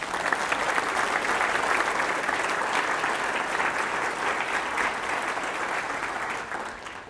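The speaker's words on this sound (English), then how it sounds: "So I'd like you to give Ron a round of applause." A room of colleagues at an all-hands company meeting applauds for Ron, dense sustained clapping that holds steady and begins tapering near the end.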